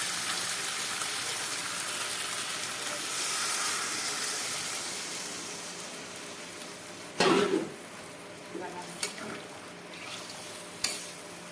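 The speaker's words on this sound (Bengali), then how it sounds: "এবার মা জল দিয়ে দেবে পরিমাণ মতো" Spiced chicken curry in a pan hisses and sizzles loudly, the steam fading slowly, then a few sharp splashes and clatters follow as water goes in and the pot is stirred.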